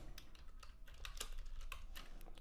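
Code typed on a computer keyboard in a fast, steady stream of close key clicks, with a few louder taps standing out from the even rhythm.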